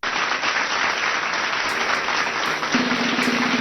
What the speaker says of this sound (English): Let's give LA a big round of applause.